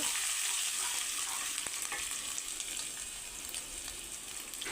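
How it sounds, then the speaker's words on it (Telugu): Ginger, garlic, kasuri methi and bay leaves lightly frying in a pan for masala semiya, giving a steady close hiss and sizzle with a few faint stirring clicks. "ఇందులోకి మనము బిర్యానీ ఆకులు కూడా వేసి లైట్గా ఫ్రై చేసుకుందామండి"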